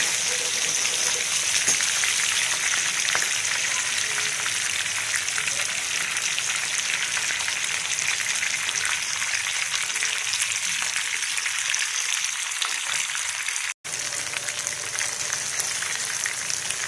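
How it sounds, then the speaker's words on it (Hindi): Fish pieces, including the head, frying in hot oil for a fish salan give a steady, dense crackling sizzle, close and continuous with no talk, broken only by one brief dropout near the end. "आपकी मछली फ्राई हो गई है"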